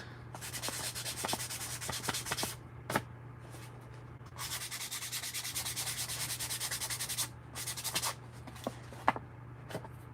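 Paper being distressed with sandpaper in a craft project, bursts of scratchy rubbing strokes that start and stop several times, close and fairly quiet, with a low steady hum underneath and no speech.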